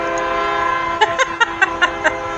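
A train passing on nearby railroad tracks sounds its horn, a steady tonal blare broken into a series of six rhythmic pulses over a constant low rumble, fairly loud and close.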